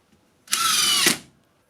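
A Makita 40V cordless impact driver set to wood mode fires a single short burst of about half a second, a loud close whine ending abruptly, surrounded by quiet.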